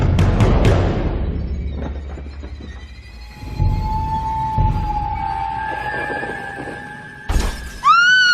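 A mirror crashes and shatters loudly right at the start, its ringing fragments trailing off, followed by eerie sustained tones and another sharp hit near the end.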